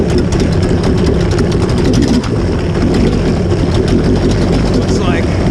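A DASA engine fitted in an inexpensive jet ski runs with a loud, steady, low mechanical roar that barely varies across the stretch, with a brief dip partway through.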